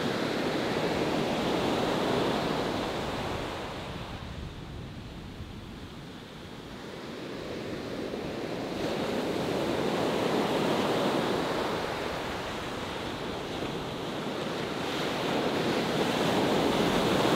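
Ocean surf and steady wind at Huntington dog beach, waves rolling in and swelling in slow cycles as broad continuous noise, loud and close with wind buffeting the microphone, no voices.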